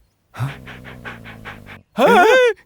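A dog in a house in a Hindi-dubbed comedy film pants rapidly and close for over a second, then breaks off into a short, loud, high whining cry.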